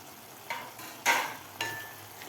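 Sev is stirred into cooked onion masala in a pan, making three soft spoon scrapes and clatters against a low sizzle, close and quiet with no talk.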